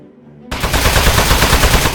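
Rapid, loud automatic gunfire blasts continuously at a metal enemy in the video game Aperture Desk Job, a dense unbroken burst starting abruptly after a moment of quiet.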